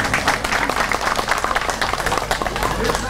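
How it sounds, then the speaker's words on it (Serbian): A crowd at a patriotic memorial event applauds with sustained, dense clapping, loud and close and steady throughout. "najvećim aplauzom"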